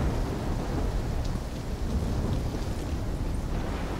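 Heavy rain pours steadily while thunder rumbles low and continuous through a stormy scene in the video game Call of Duty Black Ops 3, loud and enveloping with no voices.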